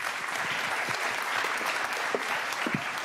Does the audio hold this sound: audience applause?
yes